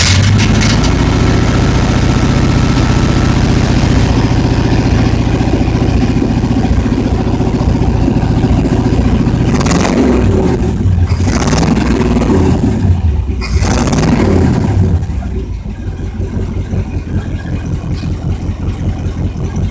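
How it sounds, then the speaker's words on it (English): A 1962 Jeep FleetVan engine with no muffler runs loud and close, a rough steady idle broken by a couple of brief revs midway before settling a little quieter. "So right now we're going to start the engine."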